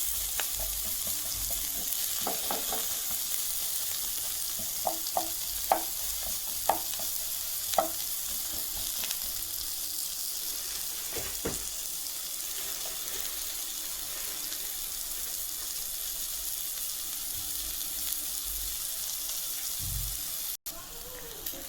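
Onions and mixed vegetables fry in a pan with a steady, even sizzle, punctuated by occasional sharp clicks and light stirring knocks in the first half, then a continuous hiss to the end.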